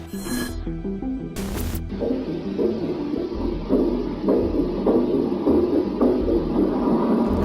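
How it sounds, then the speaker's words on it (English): A slow, muffled heartbeat thumps in low, repeating pulses through a distorted, noisy recording, starting after a couple of sharp bursts of static. "What you've just heard are said to be the dying heartbeats of a Russian cosmonaut."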